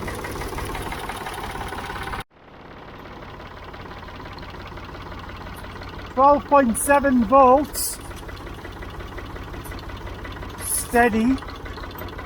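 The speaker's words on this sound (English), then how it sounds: "If I rev the engine up a bit, there we are, so it's climbing already." Ford 3000 tractor diesel engine running steadily at idle, then briefly revved, a continuous mid-pitched rumble under talk with short bursts of speech on top.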